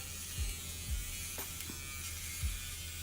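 A Flawless trimmer buzzes faintly and steadily while cutting eyebrow hair, with a few soft low bumps and light crackles as it passes over the brow, close and quiet, with no talking.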